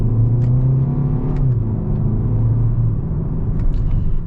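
A 2021 Hyundai Sonata SEL Plus accelerating hard in manual mode, its engine a loud, steady drone that climbs in pitch, heard from inside the cabin without talk.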